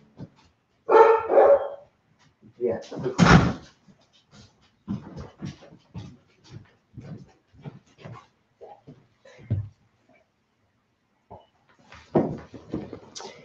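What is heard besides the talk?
old Belgian Malinois dog barking and whimpering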